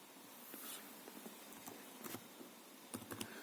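Fingers tap a PIN on a computer keyboard, giving a handful of light, uneven key clicks and a couple of firmer presses, close and fairly quiet with no talking.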